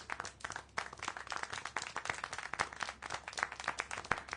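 Clapping and applause from a small group, steady irregular claps at moderate loudness with no talk over it.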